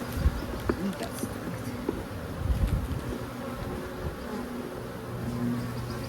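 Package honey bees buzz steadily and densely throughout an open-hive inspection, a close, continuous drone with small swells and a few louder passes near the microphone.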